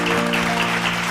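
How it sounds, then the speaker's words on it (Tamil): A church congregation clapping hands during a Bible study meeting, producing a continuous even patter of many hands in a brief burst. "அதான் நம்ம எல்லாரும் கைத்தட்டுங்க."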